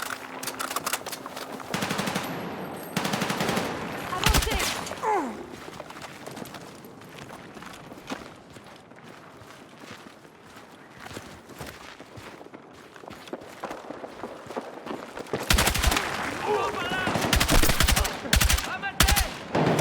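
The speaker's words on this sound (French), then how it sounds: "Une mitrailleuse!" Machine gun fire in the video game Battlefield 6 comes as bursts of rapid shots, some close and loud, others farther off, amid battle noise and footsteps, with occasional voices talking.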